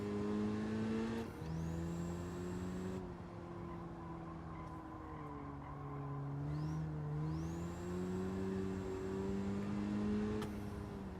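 A 2-liter turbocharged front-wheel-drive car in Gran Turismo 7 drones steadily through a lap, engine pitch rising and falling with gear changes, with turbo whistles climbing after shifts.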